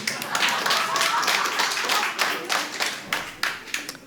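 A stand-up comedy audience claps in a steady, fairly close burst of applause that thins toward the end into a few scattered, sharper claps.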